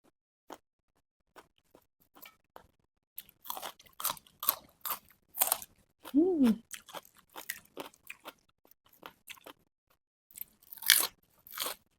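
Close, crisp crunching and chewing of chicken feet in a spicy rice-noodle salad, with irregular bites and crackles, plus a brief sliding vocal hum in the middle.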